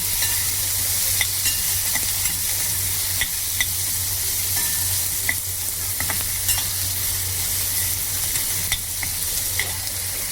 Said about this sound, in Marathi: टोमॅटो व्यवस्थित परतून घेऊ.